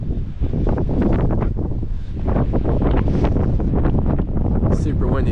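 Strong gusting wind by the Mississippi River buffets the microphone in loud, rumbling bursts, completely dominating the scene with constant roaring noise.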